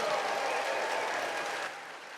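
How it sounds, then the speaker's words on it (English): An audience at the Max King Center awards evening gives a round of applause, a broad wash of crowd clapping that holds steady and then eases off toward the end. "Give yourselves a round of applause."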